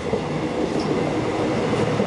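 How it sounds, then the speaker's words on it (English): A train runs along the track beside the Han River on a misty, cold day, heard from inside as a steady rumbling roll with faint wheel noise throughout. "on this train gliding along the track beside the Han River"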